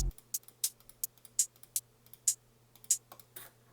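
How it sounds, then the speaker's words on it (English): Crisp, short trap hi-hat sample ticks play alone in Ableton Live in a steady, slightly uneven pattern, bright and close, with a low hum underneath. "hi-hats sound something like this."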